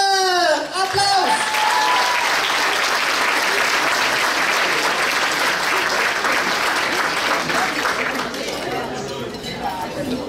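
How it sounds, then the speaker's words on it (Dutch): An audience applauds the Miss and Mrs Glamour 2020 pageant finalists with loud, dense clapping that swells after a brief spoken introduction, holds steady, then tapers near the end, with some crowd chatter mixed in. "Applaus!"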